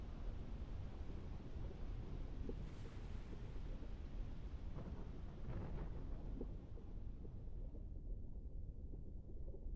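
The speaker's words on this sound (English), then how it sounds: "That was like a thunderclap." Thunder rolls through steady heavy rain, a deep rumble swelling and fading under a constant wash of rainfall, with no voices.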